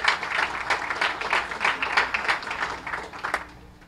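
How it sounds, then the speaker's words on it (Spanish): A formal university audience applauds to welcome Morocco's ambassador, dense steady clapping rising and falling slightly, then fading at the end. "Recibamos con un aplauso muy especial a la doctora embajadora de Marruecos,"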